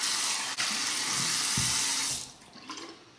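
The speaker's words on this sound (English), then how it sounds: "I'll take my Shave Nation bowl, warm it up under the hot water." Hot tap water runs steadily into a ceramic shaving bowl, a close, bright splashing hiss that continues for about two seconds before the flow stops, leaving faint trickles and small clinks.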